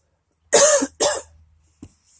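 Two loud, close coughs from a man in a quiet room, followed by a brief softer throat-clearing sound, with no talk over them.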